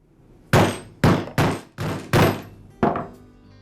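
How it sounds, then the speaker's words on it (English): A rubber mallet strikes a Ryobi blower flywheel to seat it onto the motor shaft: six solid, close thunks in an uneven rhythm, each ringing off briefly, with no talk. "I'll just slide it onto the shaft and then seat it into place with the rubber mallet."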